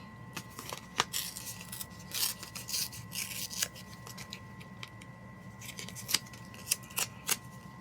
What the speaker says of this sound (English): maybe I should get some more of that leaf paper and tear some of that